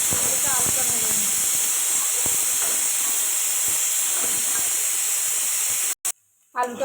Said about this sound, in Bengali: ওদিকে আলুটা ভেজে নেব